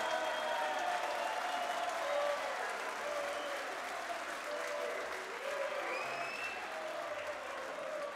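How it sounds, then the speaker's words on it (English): A darts audience at the Dutch Open semi-final applauds a departing player, a steady wash of clapping with faint crowd murmur and some whistles. "As he leaves the stage, a round of applause for Thibault,"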